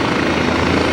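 A light aircraft's stall warning horn, set off on the ground by sucking air through its inlet, gives a steady, loud, buzzing drone for the full second.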